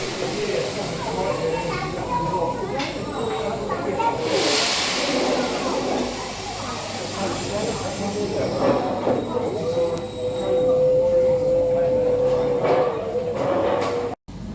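A steam locomotive on the Dartmouth Steam Railway rumbles slowly toward a water tower with hissing steam and wheel noise, a brief squeal and whistle-like tone near the end.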